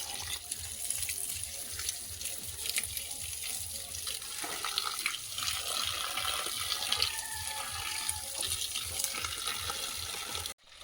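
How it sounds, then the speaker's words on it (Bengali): Water from a hose pipe splashing onto the base of garden plants such as a tagar (crape jasmine) shrub, a steady hissing, gushing stream that runs continuously for about ten seconds at moderate loudness, with no talking. "আর আজকে গাছের গোড়ায় জল দেওয়া হচ্ছে"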